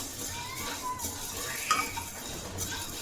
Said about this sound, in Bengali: এবার এর মধ্যে দিয়ে দেবো সাদা তিল